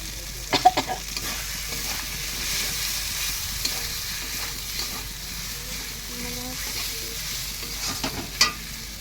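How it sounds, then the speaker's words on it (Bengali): Fish curry masala with turmeric being stirred in a frying pan, a continuous hiss of oil with scattered scraping and tapping of the spoon, near and fairly loud, with no one speaking. "দিয়ে ভালো করে নেড়ে নেব।"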